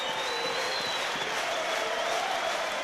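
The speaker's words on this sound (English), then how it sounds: "Look at the crowd going off, reacting to this from Samoa." Crowd at a 2013 Rugby League World Cup match between New Zealand and Samoa roars and applauds in a dense, continuous wash of cheering and clapping filling the stadium.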